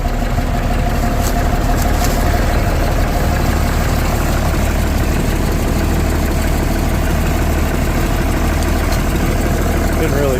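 An M2 Gleaner combine harvester engine idles after a cold start, a loud, steady, low diesel rumble with constant vibration, close up for the whole stretch.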